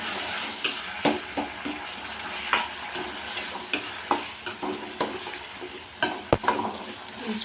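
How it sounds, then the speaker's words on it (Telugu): Tomatoes bubbling and sizzling in oil in a pan on a gas stove while cooking down for tomato chutney, with steady close frying hiss broken by a few sharper pops and stirring clinks. "ఇక్కడ టమాటా అయితే ఉడుకుతూ ఉంది"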